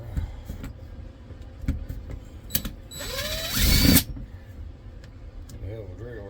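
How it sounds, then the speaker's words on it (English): A hammer drill runs in a loud, close burst of about a second during a teardown, amid scattered clanks, knocks and handling noise before and after. "Hell of a drill right there. Hammer drill."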